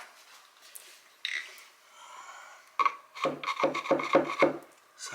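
Someone pokes and scrapes at the wooden back panel of a cabinet under a sink, making a soft rub, then a sharp knock and a quick run of rasping, knocking scrapes against the thin wood, close up.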